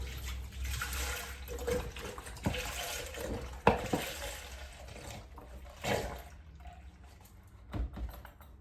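Soy milk pours and trickles quietly into a jar, with a few soft clinks and knocks along the way.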